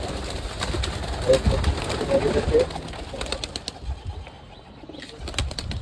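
Pigeons released after a long time indoors flap their wings in quick bursts and coo nearby as they fly around, with a person talking in the background.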